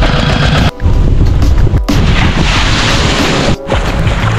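Strong waves churn during Super Typhoon Uwan, a loud, dense roar of rushing water close by with a few sudden dips and surges between heavy crashes, no voices over it.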